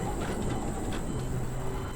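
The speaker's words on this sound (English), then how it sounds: "So now that the tram is here, so make sure you're going this way." A tram in Abiotic Factor rumbles steadily along its track, a continuous low rolling drone with faint rhythmic clacks and a high mechanical whine, heard alone without talk.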